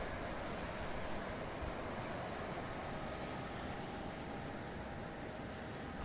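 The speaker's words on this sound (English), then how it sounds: "You can hear the waves crashing." Ocean surf on a Florida Space Coast beach at night under a full moon, heard from a hotel balcony as a steady, dense wash of breaking waves that never lets up.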